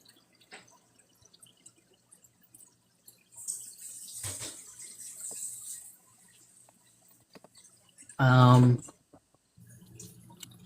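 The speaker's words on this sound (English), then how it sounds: "Let me run water in this bowl." Tap water runs briefly into a bowl that held cheese, a loud short gush standing out from a quiet room with faint background talk.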